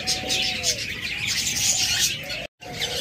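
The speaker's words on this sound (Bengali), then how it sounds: "প্রথমেই আপনাদেরকে আমি একজোড়া lutino cockatiel, new order cockatiel দিয়ে শুরু করতেছি।" A pair of lutino cockatiels calls with a few soft, fairly close whistles and chirps over a noisy room background.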